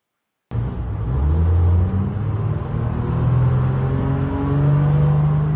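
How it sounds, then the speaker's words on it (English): A 1980 Detroit Diesel 8V71 two-stroke engine in a truck starts abruptly and runs loud and close, a deep droning rumble with a rising whine as it revs and settles, no talking. "That's a screamin' Jimmy, a.k.a. the 1980 Detroit Diesel 8V71, earning its keeps."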